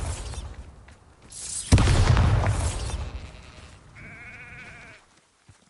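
A Bombarda blast spell explodes in Hogwarts Legacy as one loud, booming burst lasting about a second, fading into a softer rumble and followed by a brief tonal, bleating-like effect.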